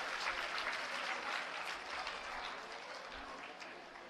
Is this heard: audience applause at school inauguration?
yes